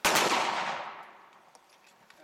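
A single loud gunshot cracks at an outdoor shooting range, its report decaying over about a second into a long echoing tail, with a couple of faint distant pops afterward.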